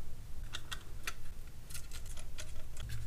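Small Torx 6 screws backed out of a Google Home Mini during a teardown, heard as faint, close, irregular ticks and clicks from the driver over a low steady hum.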